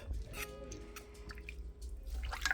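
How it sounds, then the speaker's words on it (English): Heavy cream and Parmesan cheese being stirred together in a crockpot, giving soft, wet squishing and dripping sounds with a few light scrapes, faint and close, without speech. "I'm going to go ahead and stir this up."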